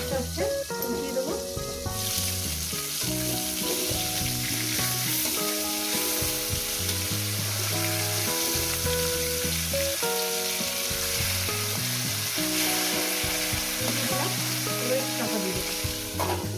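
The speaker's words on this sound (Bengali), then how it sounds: "মাছগুলো আমার ভাজা হয়ে গেছে" Tangra fish frying in hot oil in a pan, a steady dense sizzle and crackle running throughout with occasional stirring and clatter, some faint voice underneath.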